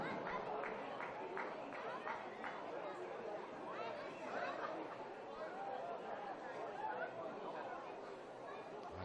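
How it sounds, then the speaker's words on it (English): Crowd roaring at a football match in a stadium in Australia, a dense wash of cheering and chanting with rhythmic clapping early on, loud and sustained, with a commentator talking over it. "The pure noise from the crowd here at Imperial Corp Stadium."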